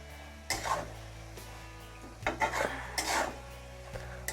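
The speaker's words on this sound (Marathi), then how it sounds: "आपण ही ना एकदा चांगली हलवून घेऊ" A utensil scrapes and stirs spring onion bhaji cooked with dal in a pan. It is close and fairly quiet, in a few uneven bursts of metallic rubbing and clinks.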